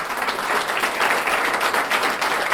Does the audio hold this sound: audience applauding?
yes